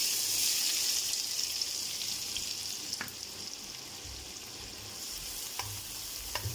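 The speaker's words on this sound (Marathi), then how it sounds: "चांगला परतून घ्यायचा कांदा" Finely chopped onions from three medium onions, with cumin, sautéing in a pan for egg biryani: a steady soft sizzle and crackle with a few light stirring clicks, close and continuous with no talk.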